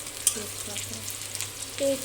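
Onions fry in oil in a wok (kadai) with bay leaf, a little sugar and whole garam masala, giving a soft, steady sizzle broken by light scrapes and taps of stirring, with no one talking.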